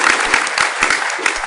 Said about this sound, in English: Don't talk over my clapping.